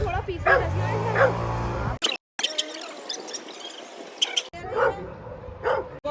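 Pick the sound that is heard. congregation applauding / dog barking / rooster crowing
dog barking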